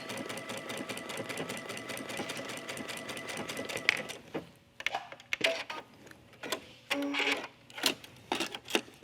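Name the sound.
sewing machine stitching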